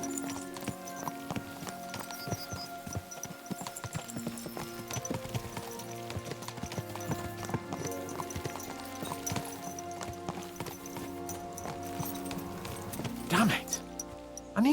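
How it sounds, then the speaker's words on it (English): Horses gallop along in Kingdom Come Deliverance 2, their steady clip-clop of hooves running under layered music and game ambience, with a brief horse whinny and a voice in the mix. "Let's really spur these horses on, eh?"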